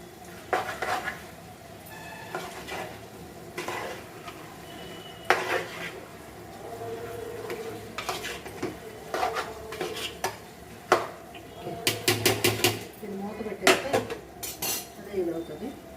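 Chicken pieces seasoned with salt and chilli powder are stirred in a metal pan while frying for biryani, giving repeated sharp clinks and scrapes of a utensil over a soft sizzle, with no talking.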